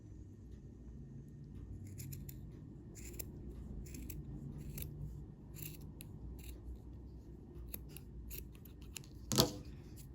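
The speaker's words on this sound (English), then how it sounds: "if you want to just trim it so that it looks a little bit more uniform" Scissors snipping yarn to trim a crochet tassel on a bookmark, a series of crisp close cuts at irregular intervals, one sharper snip near the end, quiet and without speech.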